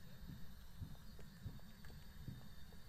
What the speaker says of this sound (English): Oh my god, I hear footsteps.